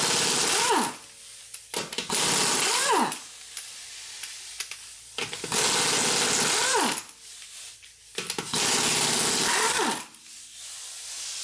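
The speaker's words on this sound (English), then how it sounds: "I'm going to grab the gun so we can remove the tire." Impact gun removing a front wheel from a Subaru Forester, several loud rattling bursts lasting a second or two each, separated by short quiet pauses.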